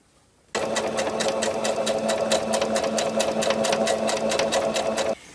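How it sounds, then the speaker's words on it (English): Sewing machine stitching closed the pinned seams of a fabric triangle bag, a steady rapid needle rhythm running unbroken for about five seconds close to the mic, with no voices. "we're going to stitch closed those seams that we just pinned"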